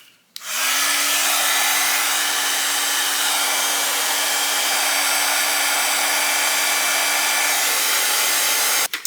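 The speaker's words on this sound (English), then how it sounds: "use my heating tool and heat this up" Heat embossing tool blowing hot air over embossing powder on a handmade card, a steady close whooshing hum with a faint motor whine that switches on abruptly, runs unbroken for about eight seconds, then clicks off.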